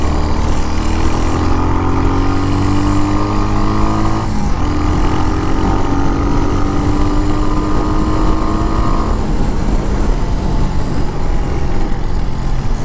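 A Royal Enfield Hunter 350 motorcycle engine thumps loudly and steadily nearby, its pitch sliding as it revs and changes speed, with no talk over it.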